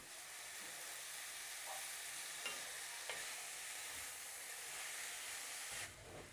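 Finely chopped safflower greens added to hot oil and stir-fried, sizzling in a loud, continuous hiss with a few soft clicks of stirring, without any talking.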